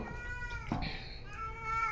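A cat meows in the horror video game Erie, giving several drawn-out, wavering cries against a quiet background, with a faint voice briefly underneath.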